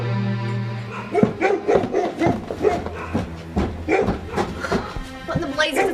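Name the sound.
dogs barking, in an audio drama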